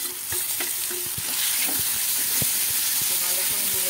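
Onion sizzling in oil in a pan while a spatula scrapes and stirs it, with repeated scraping clicks over a steady bright frying hiss, close and fairly loud.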